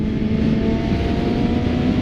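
Kawasaki Ninja ZX-6R street motorcycle with a 6-speed gearbox riding steadily, a loud continuous engine drone with wind noise close up and no clear gear-change break.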